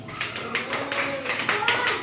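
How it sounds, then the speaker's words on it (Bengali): A classroom of children clapping in unison, a group of quick, rhythmic claps repeating over about two seconds, close and fairly loud, with some voices mixed in. "হাততালি একবার।"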